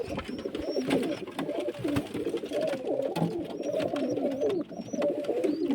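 Pigeons coo repeatedly in low, throaty murmurs close by, with occasional higher chirps and faint rustling in the background.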